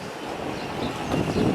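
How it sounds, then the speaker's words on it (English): A city tourist tram rolls in to a stop along street rails, a loud, close rumble of wheels and wind noise that builds toward the end. "But there's the tram just arriving."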